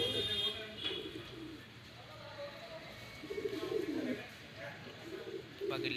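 Tournament-flying pigeons at a friend's house coo in soft, rolling phrases that come and go over several seconds, close by, while a person talks at times.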